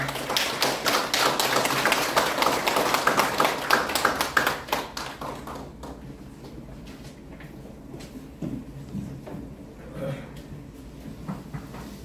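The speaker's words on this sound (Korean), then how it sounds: "큰 박수 부탁드립니다." Dense audience applause fills an auditorium at a Catholic center commemoration event, strong for about five seconds before thinning into scattered claps and faint room noise.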